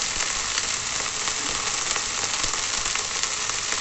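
Green chillies hit hot oil in a pan and set off a dense, steady sizzle of frying that runs loud and close throughout, with no talking.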